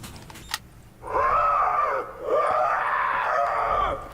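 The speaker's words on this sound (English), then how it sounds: "Agonized screams." Two long, loud agonized screams from a video game character, each wavering and sustained for about a second, separated by a brief pause, with no one talking over them.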